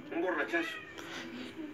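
A house cat meows a few times in quick succession, close and fairly clear, with talk going on in the background.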